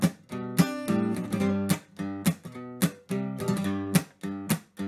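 Triplet ornaments played over a moving bass line in a reel on a plucked string instrument, with close, bright attacks in a lilting rhythm and low sustained notes shifting beneath them, no voices.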